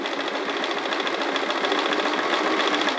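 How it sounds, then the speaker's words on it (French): A sewing machine stitches a zigzag on knit fabric, a loud close continuous whirring with a fast, even mechanical pulse throughout. "on fait le zigzag, on ne tire pas, on laisse le tissu aller à son propre rythme"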